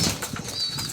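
Pigeons flap their wings as they fly down from outside trapping, a quick soft fluttering burst close by, with no talk.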